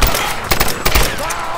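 Old machine gun fire in the video game Tomb Raider (2013), loud and close, with several sharp bursts of shots over a dense, continuous noisy battle background.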